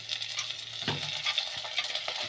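Meat and golden onion sautéing in a pan for okra stew, making a close, continuous sizzle broken by a few stirring scrapes and knocks.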